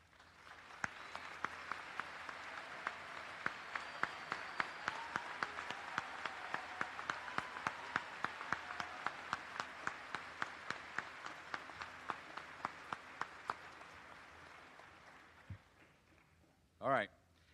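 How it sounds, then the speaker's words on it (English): A crowd at a high school graduation ceremony applauds graduating military recruits and veterans, sustained clapping from many hands with a few sharp near claps, steady for about fifteen seconds before fading, ending in a brief loud thump. "giving these amazing men and women a round of applause"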